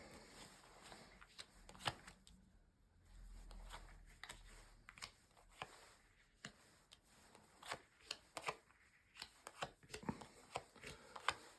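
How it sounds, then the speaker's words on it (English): A tarot deck being shuffled by hand, soft close riffles and flicks with irregular sharp card snaps, quiet overall and with no speech. "So just going to shuffle the cards and lay down your 10 cards"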